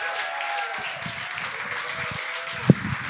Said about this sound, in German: Alles nochmal einen großen Applaus